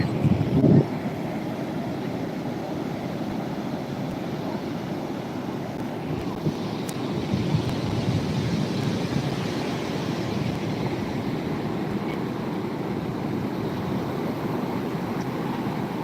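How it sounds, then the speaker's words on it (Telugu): Ocean waves surge onto Hamsaladeevi beach in a constant rushing roar, mixed with gusting wind buffeting the microphone and no break in the surf. "అలలు అయితే మామూలుగా లేవు రేంజ్లో వస్తున్నాయి"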